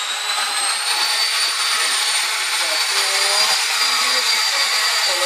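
An RC helicopter, a SOLO PRO 228, has its rotor spinning at steady speed as it lifts off outdoors, a loud continuous high whine with little change throughout.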